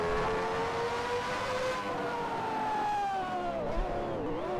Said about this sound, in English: The sound of this car is incredible.